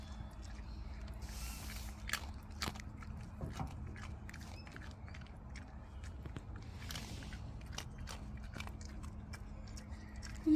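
A dog crunching crackers nearby, with scattered crisp bites and chewing crackles over a low steady background hum, fairly quiet and close.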